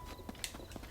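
Horse hooves clip-clop in an in-game ride through Zelda: Tears of the Kingdom, a few quiet, evenly spaced steps over faint background ambience.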